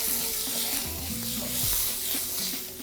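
Onion hits a very hot wok holding meatballs, giving a steady crackling sizzle with a soft low rumble of stirring underneath, close and fairly quiet.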